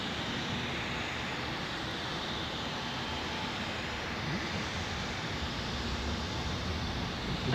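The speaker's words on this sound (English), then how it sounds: "Speaking of Pegasus Airlines, there's an A320neo arriving from Antalya just on final." A Pegasus Airlines A320neo on final approach at Zurich Airport, a steady broadband jet roar that holds even and fairly distant throughout, with no voices.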